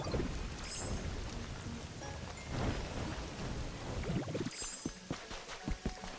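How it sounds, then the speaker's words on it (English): Steady rain falls in the video game Pokopia, a continuous wash of hiss and patter with occasional heavier rumbling swells, fairly loud throughout and thinning near the end. "Do you guys care about the rain that much?"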